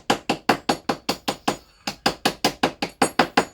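Solder wire being hammered straight, a fast steady run of about eighteen sharp metallic hammer strikes, close and loud, with one brief pause midway.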